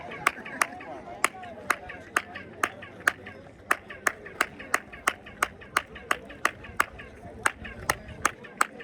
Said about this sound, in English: Listen, when I clap, listen, the sound coming from the chamber.